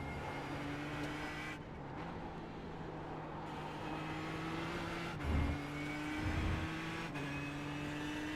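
A Ford GT GTE race car at Mosport circulates under steady engine drone, with a louder pass standing out briefly near the middle amid continuous track noise.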